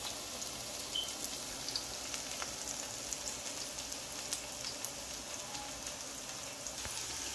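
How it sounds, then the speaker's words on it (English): Continuous soft sizzling of vegetables frying in a pan, with faint crackles and pops scattered over a steady hiss. "So that's frying up right now"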